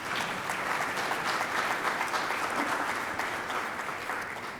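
Audience applause at a civic forum on the Civil Rights Act, a steady, dense wash of many hands clapping, fairly distant and even in level throughout, with no talking over it.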